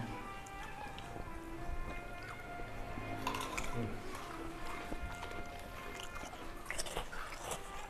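Crunchy chewing of karedok, a Sundanese raw vegetable salad with leunca berries, with steady crisp bites close up under ongoing conversation.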